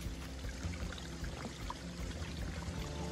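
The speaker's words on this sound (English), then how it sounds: "Can you hear the water?" Steady rushing water flows continuously, a dense even hiss at moderate distance with no voices.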